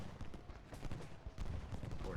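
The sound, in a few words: gunfire in a firefight, Ultimate General Gettysburg video game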